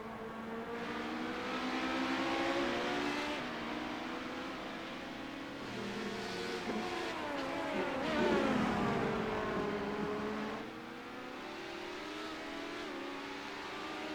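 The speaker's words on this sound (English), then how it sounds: "here comes lap traffic in the form of, I believe that it's going to be Charlie Tatum up next in the Gulf painted Ferrari" Sports racing cars, among them a Gulf-liveried Ferrari, pass on a circuit in a sim-racing series, several engines whining and shifting pitch as they approach, overtake and fade, loud and continuous with no voices.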